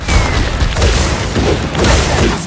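A banana bomb explodes in the LEGO Nexo Knights game, a loud, sustained booming blast that rumbles on without a break.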